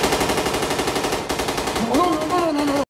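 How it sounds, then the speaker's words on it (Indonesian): Rapid, continuous bursts of toy gunfire rattling loudly, followed by a rising electronic warble before it cuts off abruptly. "mainan itu mengeluarkan suara tembakan"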